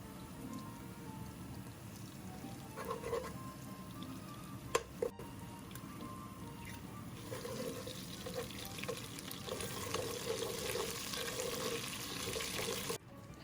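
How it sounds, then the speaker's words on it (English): Tomatoes sauté in annatto seed oil in a pan for Vietnamese bun rieu, making a steady rain-like sizzle and crackle that swells louder toward the end, with a few clinks. "So we're gonna saute tomatoes in here."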